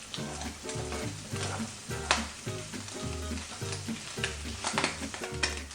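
Bacon frying in a pan crackles and sizzles steadily at close range, with a rhythmic tonal hum pulsing underneath, and no talking.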